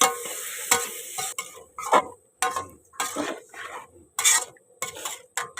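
Snakehead fish stir-fried in a spicy sauce sizzles steadily in a hot pan, broken by repeated scraping strokes of a spatula stirring the pieces, close and fairly loud with no talk.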